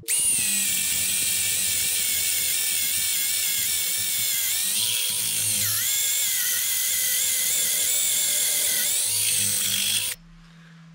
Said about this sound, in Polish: To samo wiertło 18 mm i tryb wiercenia.